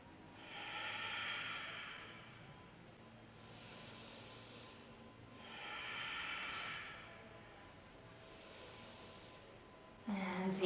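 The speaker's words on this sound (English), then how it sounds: "find some full deep breaths into your belly" Slow, deep belly breaths during a yoga session, with three or four long, soft airy inhales and exhales rising and falling in a calm rhythm, close and quiet.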